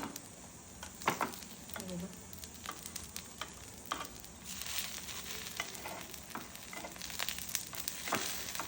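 Ragi idli cooking in an appe pan, a faint, steady sizzle with scattered clicks and scrapes as the pieces are opened and turned, quiet and close.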